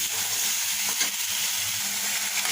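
Medium tomato and spice paste sautéing in a pan for a chicken curry, a continuous close sizzle and hiss with occasional stirring scrapes, no talking.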